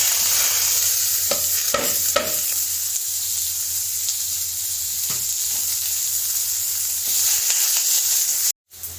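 Onions frying for paneer pepper masala hiss in a steady sizzle across the whole stretch, with a few spatula scrapes as they are stirred in the pan, then a sudden brief drop near the end.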